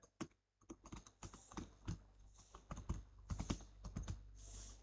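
Light, fast typing on a computer keyboard, with irregular clusters of soft key clicks and occasional pauses, close and fairly quiet, no voices.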